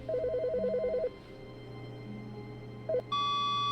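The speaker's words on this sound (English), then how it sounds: "Bro, there's a phone ringing." A faint electronic phone ring in the video game The Stanley Parable: Ultra Deluxe trills in a short burst, pauses, then chirps briefly again before a steady tone, over a low background hum.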